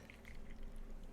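Broth being poured while cooking, a brief, soft liquid splash and trickle heard alone at close range.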